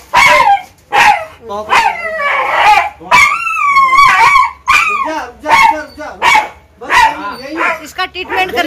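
A sick dog resisting treatment barks and yelps repeatedly in loud close bursts, with whimpering howl-like cries between them.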